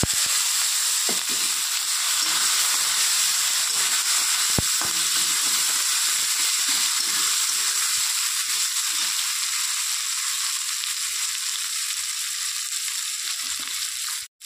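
Chopped onion hits hot oil already holding red chillies, whole cumin seeds and a bay leaf, giving a steady, even sizzle that runs unbroken, with one sharp tap near the middle.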